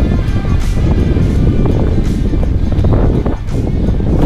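Strong wind gusting hard along the coast in the Cinque Terre area of Liguria, Italy, a loud steady roar of buffeting microphone noise with a faint wash of water beneath.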